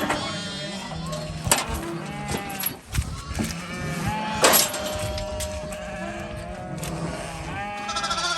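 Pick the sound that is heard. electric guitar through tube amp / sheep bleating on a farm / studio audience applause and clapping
sheep bleating on a farm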